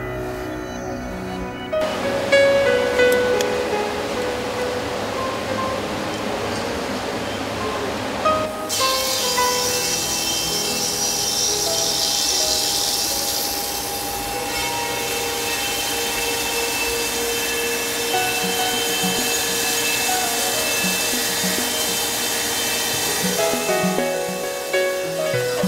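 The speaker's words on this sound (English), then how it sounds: "Firstly, slab planing." A slab planing machine runs in a furniture factory, a loud steady roar with a high whine and a sudden shift in tone partway through.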